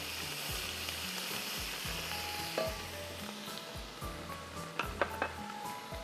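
Ginger garlic paste sizzles steadily in a hot pan while cooking a Banarasi pulao, with a few clinks of a spoon against the pan near the end; no one speaks.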